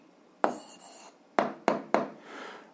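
Answer written by hand on paper, a few short, close scratchy pen or chalk strokes in quick succession with quiet pauses between them.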